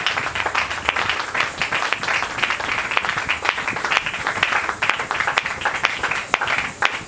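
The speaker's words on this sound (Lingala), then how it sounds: "Est-ce qu'on peut acclamer très fort pour le Seigneur?" A church congregation claps and cheers during a French-language worship service, a steady, even wash of many hands with scattered sharper claps, lasting throughout at a moderate level.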